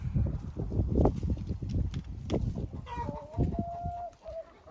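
Young hens in a coop cluck and chatter in quick, uneven bursts close by, with a short higher call near the end.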